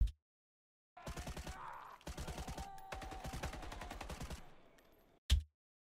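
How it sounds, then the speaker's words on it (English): Rapid gunfire from a video game weapon, several fast bursts of shots across a few seconds with short gaps between, ending in a single loud blast, close and clear with no talking. "pay attention to the end of the barrel as she's firing the gun"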